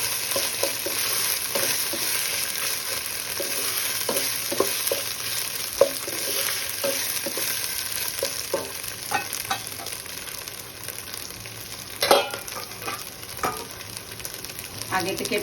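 Fried potatoes and pointed gourd sizzling in a pan as a spatula stirs them, a constant frying hiss broken by scattered scrapes and one louder clatter, close by with no speech.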